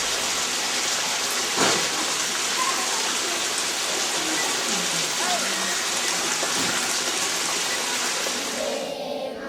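Steady rain falls in India as a dense, continuous hiss that stays even from start to finish, with a few faint knocks and background sounds underneath.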